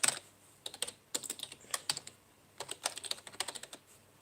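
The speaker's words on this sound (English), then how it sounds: "hold on, I'll type it in here" Computer keyboard typing in short irregular bursts of crisp, close clicks with brief pauses between them, quiet room with no talk.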